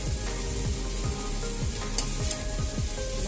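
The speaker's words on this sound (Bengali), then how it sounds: "ঠিক এইভাবে মিশিয়ে নিতে হবে" A spatula stirs chowmein in a hot pan, giving a steady close sizzle broken by repeated scraping strokes in an even rhythm, with no talking.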